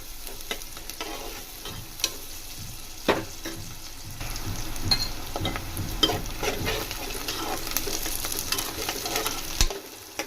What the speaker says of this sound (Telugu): చూడండి, ఈ విధంగా ఫ్రై చేసుకోండి.